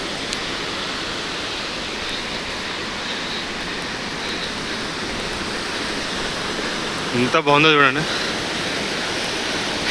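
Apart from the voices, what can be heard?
Jogini waterfall near Vashisht, Manali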